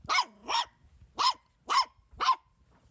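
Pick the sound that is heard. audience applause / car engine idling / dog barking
dog barking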